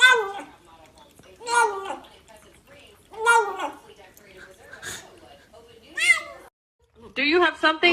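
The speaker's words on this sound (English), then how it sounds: "This cat tried out cold water for the very first time." A cat meows several times in cold water, drawn-out yowling calls repeated in bursts with short pauses between them, close and fairly loud, ending with a louder run of cries.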